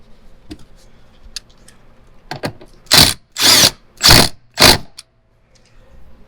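A ratchet tightens a small bolt behind rubber molding inside a 2022 Toyota Tacoma: four loud, close bursts of rapid clicking with short pauses between them, and quieter handling noises before and after.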